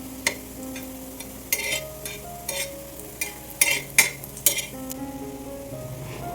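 Neer phanas (jackfruit) slices frying in oil on a flat griddle pan, a steady soft sizzle broken by several sharp clinks and scrapes of a spatula turning and moving the pieces aside.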